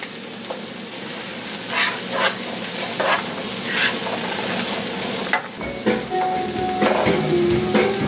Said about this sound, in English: We're gonna cook our vegetables down.